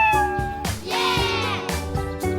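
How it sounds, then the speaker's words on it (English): Cartoon cat meowing in a children's learning show about a truck and farm animals: several loud, close, drawn-out meows in quick succession, clear and without talk. "right, it's a cat!"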